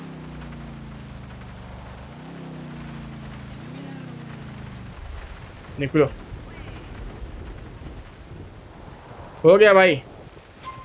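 Steady rain pours as a broad, even hiss through the whole stretch in the video game GTA 4, with a low engine drone early on and someone talking briefly over it twice.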